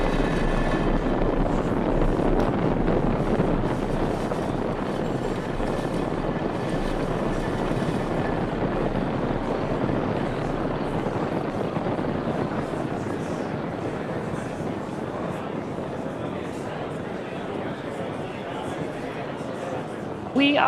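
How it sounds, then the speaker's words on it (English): SpaceX Falcon 9 climbing away from Space Launch Complex 4 East on the Transporter 8 mission, engines at full power, a steady deep rumbling roar lasting throughout, with a narrator speaking over it. "Falcon 9 has cleared the tower at Space Launch Complex 4 East"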